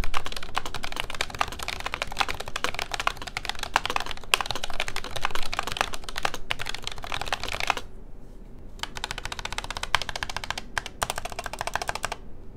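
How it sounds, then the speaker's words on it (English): Someone types quickly on an Asus ROG Claymore II gaming keyboard fitted with red switches, producing a close, continuous run of light clacking keystrokes. The typing breaks off briefly about two thirds of the way through, then resumes. "In terms of sound, the sound of this keyboard is not horrible."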